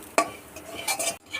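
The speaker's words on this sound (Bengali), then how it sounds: "সুজিটাকে লাল লাল করে ভালো করে ভেজে নেব।" Semolina frying in hot ghee while a spoon scrapes and stirs it in the pan, a few quick metallic scrapes and soft sizzling, close and brief with no talking.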